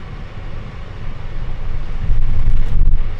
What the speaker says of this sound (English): you're hearing a jet engine sound, which is the car's air conditioner